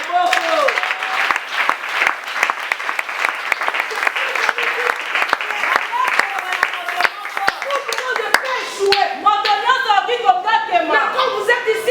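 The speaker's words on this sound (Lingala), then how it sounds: "Acclamez. Beta maboko." A church congregation claps hard together, dense and loud, with a few voices and chuckles mixed in before the clapping thins toward the end.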